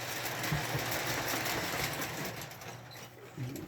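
Rugged Lionel toy train engine from an MPC set running on its track, a steady close whirring motor hum with faint clicking rail rhythm, moderately quiet and continuous.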